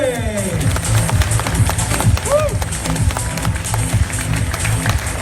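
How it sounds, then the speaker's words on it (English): A press conference room for the boxer Lucas Matthysse fills with a steady round of clapping from the crowd. The rapid, dense applause carries on throughout, with voices in the room underneath. "please put your hands together and make a big round of applause for the champ, Lucas Matthysse"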